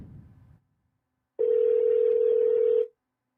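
A steady electronic ringback tone sounds for about a second and a half after a brief muffled noise and a pause.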